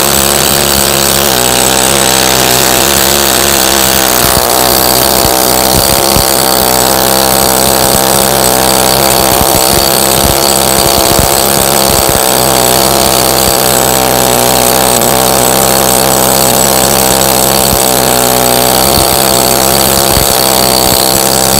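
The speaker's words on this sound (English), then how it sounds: "I'll switch to the bushing head in the big hammer just to finish that off" A big hammer fitted with a bushing head dresses natural stone for an arch, a loud continuous rattling, grinding roar that runs steadily and close throughout with no pauses.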